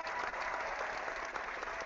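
Steady applause from a group of people, a dense continuous wash of clapping at even loudness throughout, with no talking over it.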